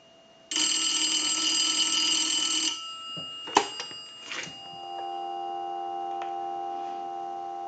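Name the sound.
telephone dial tone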